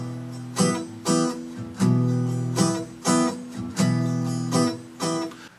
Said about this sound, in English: And now we're going to mute strokes 4 and 6 as well.